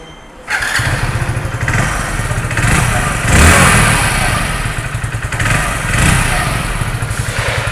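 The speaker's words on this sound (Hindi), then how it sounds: "तो चलिए अब बाइक को मैं आपको एक बार स्टार्ट करके" A 2022 Hero Splendor Plus motorcycle fires up about half a second in, then settles into a close, steady idle with a few light revs rising and falling.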